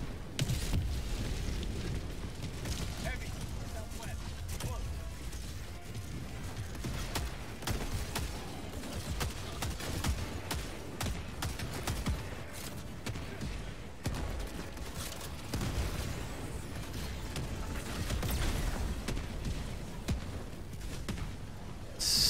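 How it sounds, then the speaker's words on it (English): Constant explosions and rapid gunfire from the Helldivers 2 video game fill the scene with dense, overlapping booms and cracking shots throughout. "So many explosions."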